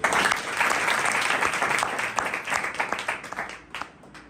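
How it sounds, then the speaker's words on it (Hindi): Audience at a church convention in Chhindwara claps together, a dense burst of applause that starts loud and gradually thins and fades over a few seconds, with no voices standing out. "क्या आप ताली देंगे?"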